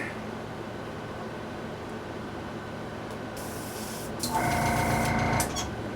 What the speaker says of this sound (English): We'll do a test spray.